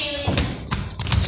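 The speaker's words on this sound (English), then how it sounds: "Double knock." Two or three dull thumps, likely knocks on a classroom door during an 8th grade prank, sound close over background noise and murmuring voices.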